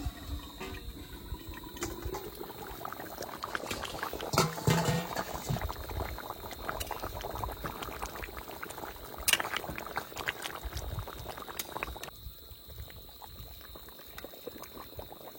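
Mutton and potato curry boiling in a cooking pot at an outdoor village picnic, a continuous dense bubbling and sputtering that stays close and fairly loud throughout, easing slightly near the end.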